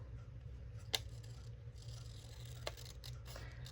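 Scissors trim paper in a journal, two short crisp snips close to the ear with a few faint rustles between them, in quiet surroundings.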